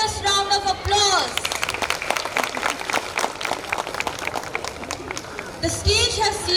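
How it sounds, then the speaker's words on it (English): Audience clapping at a school Independence Day cultural program, dense and steady, with music or a voice rising at the start and end over the crowd. "Let's give them a thunderous round of applause."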